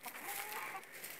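Hens cluck faintly as they return inside from the heat, a few soft, brief calls over a hissy background, distant and quiet.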